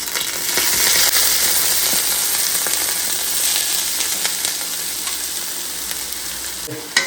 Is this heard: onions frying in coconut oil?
yes